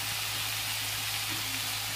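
Fish and pumpkin curry frying in a pan, a steady close hiss of oil sizzling without pause, loud and even, with no voices.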